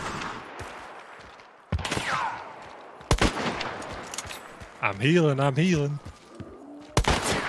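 Bursts of gunfire in the game Hunt: Showdown, a few sharp shots spread across the clip, a close crack near the end, with a short spoken remark over them.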